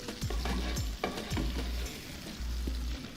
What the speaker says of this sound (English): And shrimp doesn't take long to cook, so you really just want a little quick sear on this.